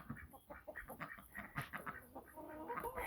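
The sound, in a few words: ducks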